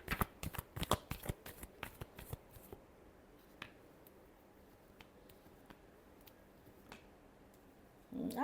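Tarot cards shuffled by hand: a quick, close burst of crisp riffling snaps in the first few seconds, then sparse soft card taps over a quiet background, ending with a dull thump.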